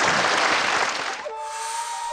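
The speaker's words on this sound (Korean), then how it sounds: "그럼 박수로 한번 맞이해보겠습니다." An audience applauds to welcome a performing calligraphy artist onstage, a dense burst of clapping that dies away after about a second, followed by a steady sustained tone.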